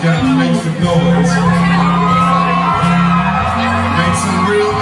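A concert crowd at a live show cheers, whoops and shouts loudly and steadily throughout, with a voice and music underneath.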